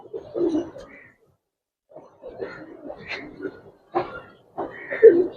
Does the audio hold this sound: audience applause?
no